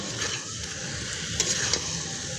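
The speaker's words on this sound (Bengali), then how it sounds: "মশলা কষাচ্ছি।" Spices sizzle and scrape in a pan as fried potato and chicken are stirred through them for bamboo biryani, a steady hiss with soft utensil scrapes and small clicks, no talking.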